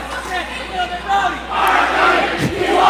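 Rowdy crowd at an Immanuel high school volleyball match against Whitehall in a gym, cheering and shouting together, swelling louder toward the end over a constant hall din.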